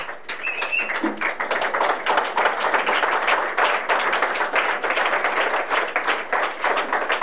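A church congregation claps steadily and densely, a full room of applause sustained at an even level throughout, with no voices rising above it.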